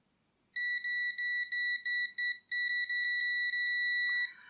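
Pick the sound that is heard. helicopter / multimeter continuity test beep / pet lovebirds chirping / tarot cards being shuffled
multimeter continuity test beep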